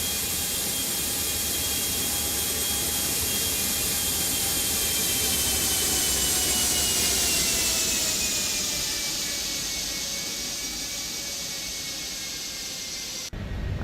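Gulfstream 550 jet engines in a flight simulator, a loud, steady roar with a high whine that slowly shifts in pitch and eases slightly before cutting off abruptly at the end.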